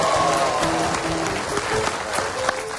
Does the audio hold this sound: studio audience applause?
yes